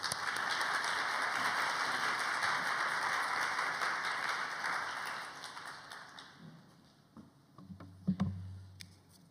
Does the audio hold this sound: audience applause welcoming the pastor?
yes